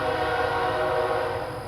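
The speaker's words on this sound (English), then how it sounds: "Listen to that train in the background." A train rumbles past in the background in Lumberton, East Texas, a steady mid-distance roar with a sustained horn-like tone, fairly loud and fading slightly at the end.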